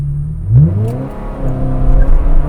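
A Ferrari 360 Modena sports car revs hard as it climbs a hill, its engine note rising sharply in pitch, dropping with a gear change, then building again, loud and close with no talking.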